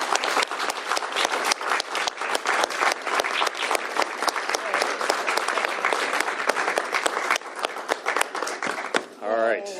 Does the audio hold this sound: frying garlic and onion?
no